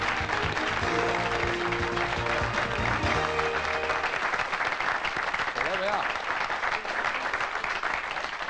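An audience applauds steadily, a dense wash of clapping throughout, while someone speaks briefly over it and music plays underneath at first.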